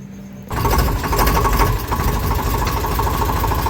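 A tractor's steady, loud engine drones and rumbles continuously after a brief quiet start, with a chugging low-frequency pulse throughout.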